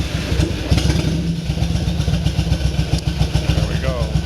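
Yamaha motorcycle engine running at idle during a restoration test, with a steady low, pulsing rumble throughout and someone talking over it.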